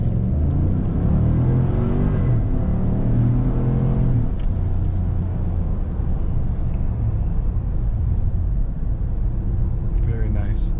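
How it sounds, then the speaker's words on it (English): A 2017 Cadillac Escalade with a 6.2 V8 pulls away from a dead stop in sport mode. A deep engine rumble climbs steadily, then settles into a steady drone while a person talks over it. "we're going to give it a little acceleration run from a dead stop"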